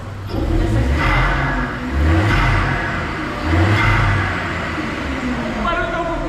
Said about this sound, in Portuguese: O barulho está um pouquinho diferente, já porque tem o downpipe, mas não está aquele ronco esportivo